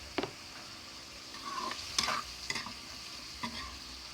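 Food stirred as it fries in a pan at home, with soft scraping strokes and intermittent sizzling bursts at a moderate, close level, no voices.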